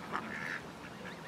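Ducks that are prematurely molting give a short quack, faint and slightly distant, with a low background hum.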